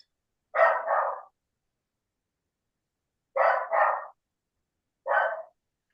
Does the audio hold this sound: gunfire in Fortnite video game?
no